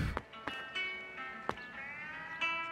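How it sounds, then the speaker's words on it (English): A cat in the video game Lost in Play meows several times in a row, short clear calls with soft clicks between them, close and fairly quiet. "All right, and there's the kitty."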